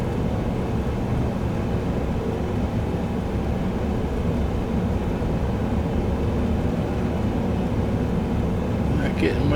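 An ATR 72-600 turboprop accelerating down the runway for takeoff from Baltimore-Washington International in extreme icing, its engines a steady, loud, dense drone that holds constant throughout.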